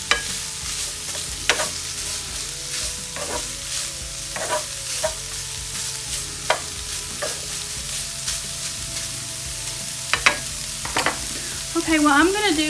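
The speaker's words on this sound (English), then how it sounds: "Alright, I'm going to give this a stir. Hope y'all can hear me. I know it's loud." Fajita meat and vegetables frying loudly in a pan while being stirred, a constant close sizzle punctuated by repeated clacks and scrapes of a utensil, with no voices.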